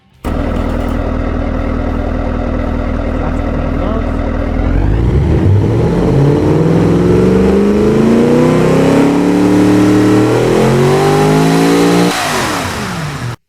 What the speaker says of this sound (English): let's fire up this beautiful racing engine